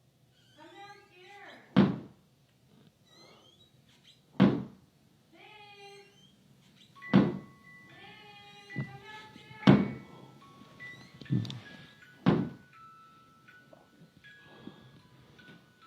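Several heavy slams hit a door at night, sharp loud thuds spaced a couple of seconds apart, with a person calling out quietly between them.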